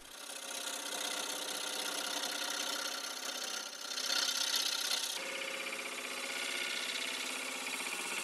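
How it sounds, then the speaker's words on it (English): A rasp shapes a wooden nutcracker, making continuous scratchy rubbing strokes that blend into a steady coarse rasping. The sound is fairly faint, with an even level throughout and no talk. "I use a rasp to ease the transitions from the round sides to the flat front"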